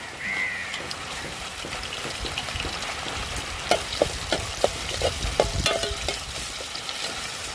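Tomatoes are stirred into a hot frying pan while making South Indian sambar, giving a steady sizzle with soft scraping and clinks of the spoon. The stirring grows more rhythmic toward the end.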